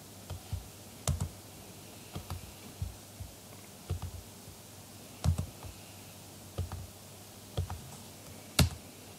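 Keystrokes on a computer keyboard while entering an AWS configure command, a sparse run of distinct clicks in small bursts, near and clear, with no talking.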